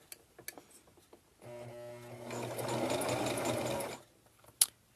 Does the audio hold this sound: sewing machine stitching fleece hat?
yes